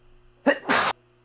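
A single sharp sneeze, a quick intake then a loud explosive burst, close to the microphone in an otherwise quiet room.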